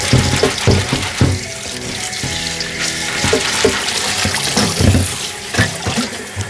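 Fresh bean sprouts being rinsed under a running kitchen tap, water splashing and trickling steadily into a sink with occasional louder sloshes as the sprouts are handled, close and continuous with no talk.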